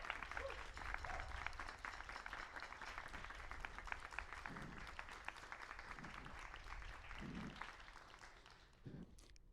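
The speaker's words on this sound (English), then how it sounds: "we have to clap ourselves here, do the clapping ourselves" Members of the Robin Hood Youth Orchestra applaud themselves at Nottingham Castle with no audience present, a faint, steady patter of clapping from a small group that carries on evenly throughout.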